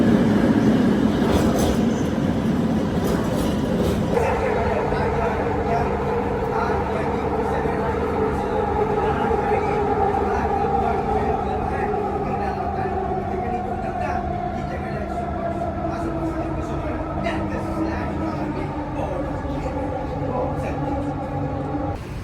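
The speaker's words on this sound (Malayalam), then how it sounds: "ഈ ട്രെയിനിൽ കയറിയിട്ടാണ് നമ്മൾ പോകേണ്ടത്." Train in motion, heard from onboard: a continuous loud rumble with a steady drone and a slowly shifting tonal whine that runs unbroken throughout, with talking partly over it.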